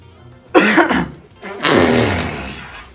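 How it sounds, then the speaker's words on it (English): A person coughs twice, forcefully and up close, with a short pause between the two throaty bursts; the second cough drags on a little longer. "Do you think if I, like, tried to cover it up with a cough, they wouldn't hear it?"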